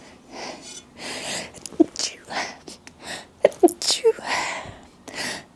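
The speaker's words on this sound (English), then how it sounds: "I sneeze." A person lets out several sharp sneezes in quick succession, close and fairly loud, mixed with sniffs, breaths and soft whispered speech between them.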